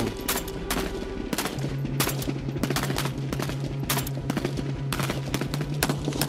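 A gun fires in rapid sustained bursts with the trigger held down, a dense stream of shots over a low rumbling bed as a sound effect in a Bengali alien suspense story; the fire runs loud and continuous throughout, with no talk.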